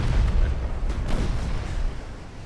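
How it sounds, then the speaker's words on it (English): Two-inch naval guns fire in a warship battle in Ultimate Admirals: Dreadnoughts, a continuous deep booming rumble of rapid fire that stays loud and dense throughout. "Two-inch guns go burr."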